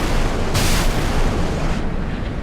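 SM-2 missiles fired from a warship in the naval video game Sea Power, a loud roaring launch rush with a bright hissing burst early on, fading into a rumbling trail.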